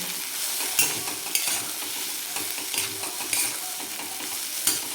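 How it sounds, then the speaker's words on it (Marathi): Egg chutney with coriander is stirred in a hot pan, a close, bright sizzling hiss broken by several sharp scraping strokes, with no voices. "आता वरतून टाकून देऊ आपण कोथिंबीर टाकू आणि मिक्स करून घेऊ"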